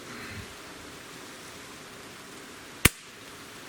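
One sharp, loud crack from a Barra 1866 Gen-2 Cowboy Series multi-pump air rifle cuts through a steady hiss of background noise, then fades quickly.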